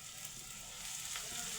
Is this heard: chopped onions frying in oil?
yes